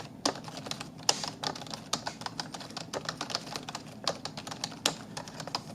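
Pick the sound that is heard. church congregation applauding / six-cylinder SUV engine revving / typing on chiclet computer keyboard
typing on chiclet computer keyboard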